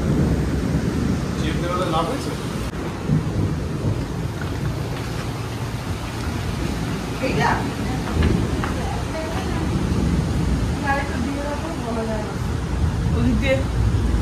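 Heavy rain roars steadily with low rumbling in a violent thunderstorm, while voices talk intermittently over the downpour.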